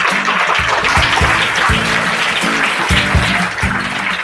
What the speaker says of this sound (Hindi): चलिए जोरदार तालियां हो जाए भाई